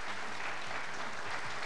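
Studio audience applause for children on a Greek TV game show, a steady dense wash of clapping filling the short stretch at moderate level with no talk over it.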